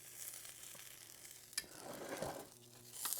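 Breakfast quesadilla with eggs, cheese and black beans sizzling in a pan as it is flipped, steady soft frying hiss with a brief scrape and thump midway, close and quiet with no talk.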